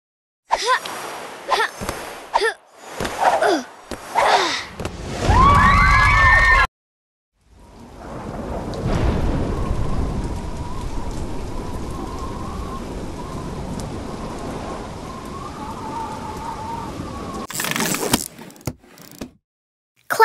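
Hail pelting down in a storm makes a dense, steady hiss and patter for about ten seconds, following a few short separate sounds at the start and ending abruptly.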